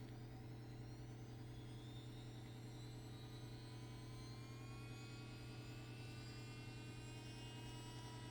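Compact, lightweight electric nail drill running steadily with a continuous low hum and faint rising whine as its speed dial is turned, fairly quiet throughout.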